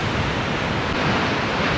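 Ocean surf surging at Hedvi Point on the Konkan coast during heavy rain, a dense, loud, continuous wash of water noise with no voices.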